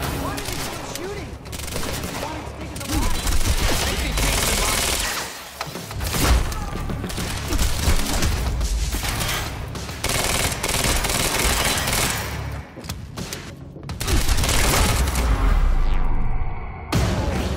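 Gunfire in the shooter game Quantum Break during a library shootout: sustained loud bursts of rapid shots and impacts, with brief lulls and a few sharp cracks near the end.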